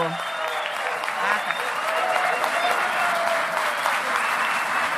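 A crowd at a municipal guards gathering stands to applaud the mayor, continuous close applause with scattered cheers and voices mixed in throughout.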